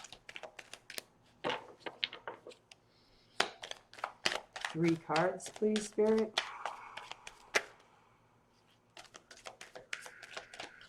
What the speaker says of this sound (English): Last shuffle, and then I take it from the top.